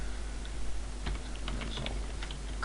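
Keys clatter on a computer keyboard as a terminal command is typed in Ubuntu, a quick burst of light irregular clicks, close but fairly quiet over a steady low hum, with no voices.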